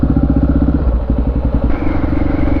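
Honda XR650R dual-sport motorcycle engine running while riding, a loud, steady low thumping rumble close up with a brief dip and rise in revs, no talk over it.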